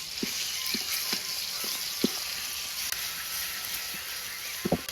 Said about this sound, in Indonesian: Bumbunya digoreng, Lur.